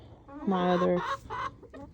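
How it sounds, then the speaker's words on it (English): A nearby rooster gives a short, loud cluck-like call followed by a couple of quieter clucks from chickens. "There's my rooster."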